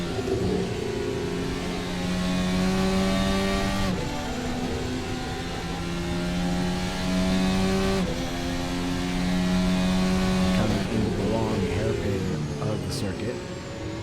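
Ferrari Formula 1 car engine heard onboard in Assetto Corsa racing, a loud continuous high-pitched whine climbing through the revs with regular upshifts every few seconds, while a commentator talks over it.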